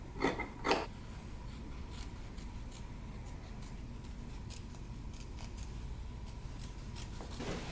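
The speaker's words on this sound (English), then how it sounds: "So you want to cut very close, but not through your stitching" Scissors snipping jacket fabric close to the stitching, a pair of crisp nearby cuts at the start followed by a string of fainter, quicker snips over a steady low background hum.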